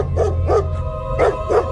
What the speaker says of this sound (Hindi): सामने एक कुत्ता खड़ा था। बिंदिया को देखते ही वो जोर जोर से भौंकने लगा।